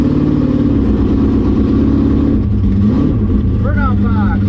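1965 Impala SS drag car with an LS7 engine rumbles loudly at the burnout box at a drag strip, a heavy close engine drone that rises and shifts pitch as it revs.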